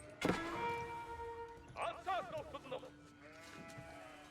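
Sheep in the Age of Empires strategy game give a few short bleats mid-clip, set against a steady hum of game sound with faint background activity.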